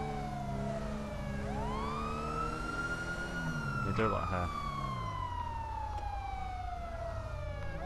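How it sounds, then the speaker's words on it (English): A wailing police car siren in GTA 5 sweeps up and down in pitch, loud and continuous, with engine rumble and a brief voice speaking over it. "I'm gonna sit in the car with the sirens on"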